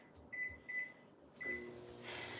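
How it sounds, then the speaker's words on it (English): A microwave oven in a home kitchen gives three short high beeps, then its low steady hum begins as it runs, heating an uncovered holiday appetizer, with no talking. "This is going to be uncovered in the microwave for 2 minutes"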